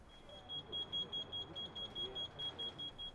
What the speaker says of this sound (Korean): 타고 있는 숯을 텐트 안에 넣고 문을 닫자 잠시 후 일산화탄소 경보음이 울립니다.